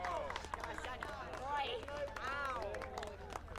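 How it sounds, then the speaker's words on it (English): A crowd gathered for a total solar eclipse cheers and shouts as totality ends, with excited voices rising and falling at a moderate distance under a faint background rumble. "Listen to the crowd."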